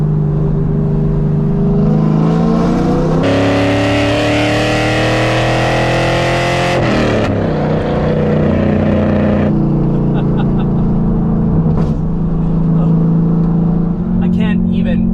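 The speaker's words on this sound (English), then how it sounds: "I can't even remotely express how thunderous the exhaust sounds." A 5th gen Chevrolet Camaro SS with a straight-pipe exhaust roars loud and close, climbing through a long rev before easing off to a deep, rumbling idle.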